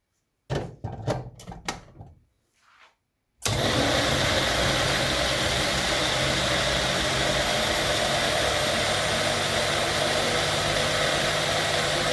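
After a few brief clunks and knocks, a blender kicks on and runs with a loud, continuous whirring roar as it mixes cashew paste with milk and sugar.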